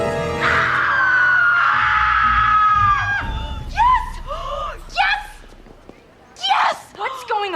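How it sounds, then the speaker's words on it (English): Two girls scream loudly into each other's faces, a long sustained shriek followed by several shorter, rising yelps in quick succession, close and piercing. "They scream in each other's faces."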